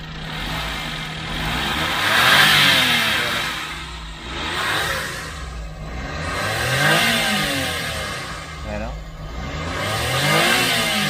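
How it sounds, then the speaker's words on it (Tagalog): The engine of a Suzuki Every wagon revs up and down repeatedly, rising in waves and dropping back toward idle, heard close up with a steady mid-pitched drone. "Then check natin yung pwersa ng ating makina."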